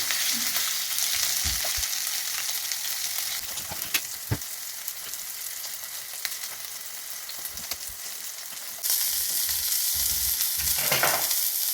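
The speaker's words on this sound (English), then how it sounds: "if your pan is really hot it doesn't stick to the pan, and just quick flip over to the other side" Rabbit burger patties fry in a very hot pan with a constant loud sizzle and crackle, broken by a few clicks and scrapes of a utensil and a flare of hissing as the patties are flipped.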